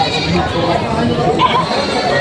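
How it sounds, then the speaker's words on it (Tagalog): Native goats bleat in a short burst amid a noisy outdoor goat market, with people chattering nearby throughout. "Mga native na kambing."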